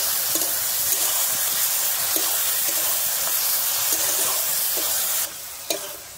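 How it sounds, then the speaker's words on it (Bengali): Ground spice paste is stirred into chikni saag greens in a hot pan, a steady wet sizzle and frying hiss with soft rhythmic scraping strokes, quieting briefly near the end. "আমি বেটে রাখা মশলাটা দিয়ে কিন্তু শাকের সঙ্গে একটু ভালোভাবে নেড়ে নেব।"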